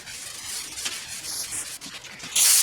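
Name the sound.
sanding car panel with 220 grit sanding block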